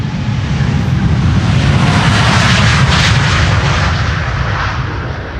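A jet airliner roars on takeoff from Amsterdam Schiphol's Polderbaan runway 36L on a windy day, a loud, sustained broadband engine rumble that swells and holds steady for several seconds, with no voices.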